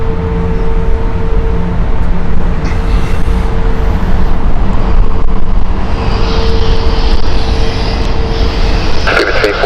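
An Airbus A380 at Heathrow Airport gives off a loud, continuous jet engine roar with a steady tonal whine, heard at fairly close range throughout.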